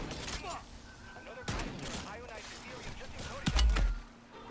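Gunfire in the Modern Warfare Zombies video game, a few sharp shots and a short burst heard fairly faintly among other game sounds while a person talks over them.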